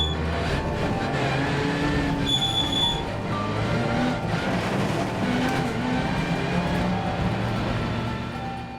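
A damaged Lynk & Co touring race car creeps slowly into the pits at Slovakiaring with a loose front-left upright, its engine rumbling low and uneven along with rattles and clunks, steady and close throughout.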